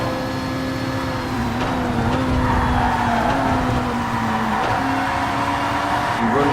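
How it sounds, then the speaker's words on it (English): Tyres screech through a corner in TOCA Race Driver 3 during a DTM series race at Motorpark Oschersleben. A sustained, wavering squeal rides over a steady engine drone for several seconds. "Oh, tyres screeching through turn 3."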